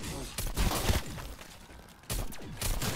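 Gunfire from an akimbo weapon in a zombie video game, aimed at a crawler's legs: loud, sharp blasts of shots around the start and again near the end, with a rumbling mix between the bursts.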